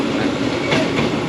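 A train rolls past on the railway nearby, a loud, continuous rumble and rattle of wheels on track with a faint click of rail joints.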